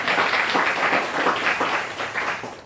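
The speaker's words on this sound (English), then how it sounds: "Maybe everybody has to clap very loud because." A conference audience at State of the Map 2017 claps in a brief, dense burst of applause, close and fairly loud, with no voices over it.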